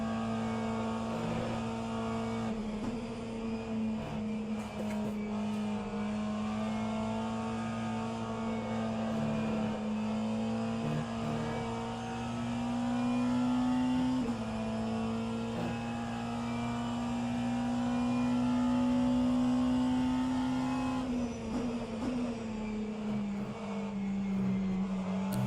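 Race car engines in rFactor 2 endurance racing, including a BMW hypercar, droning steadily and close throughout, with the engine note rising and falling slightly as the car shifts and accelerates.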